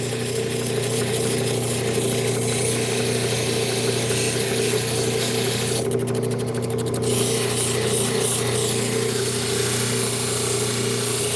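Loud, steady whirring of a lapidary machine running a 3000 grit polishing wheel on turquoise stone, a constant motor hum with a brief gritty scraping burst midway.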